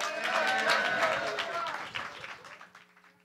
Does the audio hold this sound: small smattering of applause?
yes